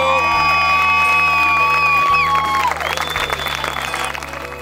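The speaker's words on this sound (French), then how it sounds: "Donnez-vous une bonne main d'applaudissements," A crowd at a Relay for Life charity event claps and cheers loudly with whoops and children's shouts, while sustained tonal music plays underneath before shifting midway.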